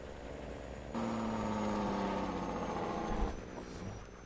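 Old John Deere harvesters work a field in Farming Simulator 22, a steady mid-pitched engine drone with a rising whine that holds for several seconds before easing back, continuous and fairly close, no talk over it.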